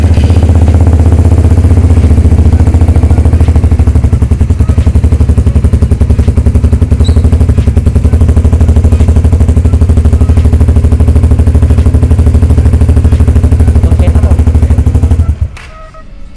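A Suzuki GSX-S150 motorcycle engine idles steadily and loudly up close with a constant low rumble, then cuts off abruptly near the end.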